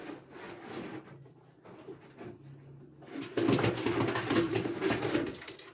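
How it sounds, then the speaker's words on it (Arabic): Pigeons shift and scuffle inside a cardboard box, with soft coos and rustling against the cardboard growing busier toward the end, close and moderately loud. "هنفتح الكرتونه مع بعض ونشوف ايه هو نوع الحمام الجديد"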